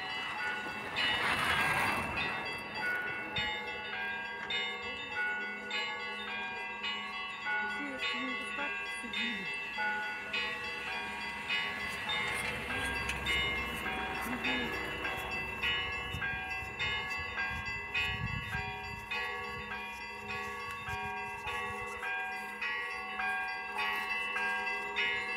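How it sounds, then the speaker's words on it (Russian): Bells of an old church in snowy Megion peal steadily throughout, a dense, ringing clang of overlapping tones with a low rumble of street or passing traffic beneath. "Приятно слушать колокольный звон."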